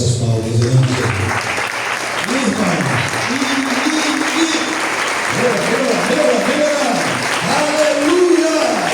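A church congregation claps together during a Sunday Baptist service, steady applause filling the room while a voice sings or speaks over it throughout.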